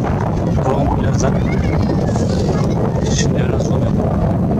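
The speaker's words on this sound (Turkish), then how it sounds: "Biraz rüzgar var." Heavy wind buffets the microphone outdoors, a constant loud rumble for the whole stretch, with a voice talking over it.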